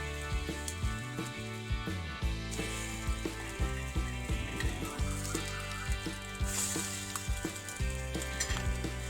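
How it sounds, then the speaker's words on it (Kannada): Egg-dipped sweet bread frying in ghee in a frying pan, a steady close sizzle with soft rhythmic knocks and clinks from the pan and utensil, no talking. "ಚೆನ್ನಾಗಿ ಡಿಪ್ ಮಾಡಿ ತುಪ್ಪ ಹಾಕ್ಬಿಟ್ಟು ಫ್ರೈಂಗ್ ಪ್ಯಾನ್ಗೆ ಹಿಂಗೆ ಹಾಕಬೇಕು."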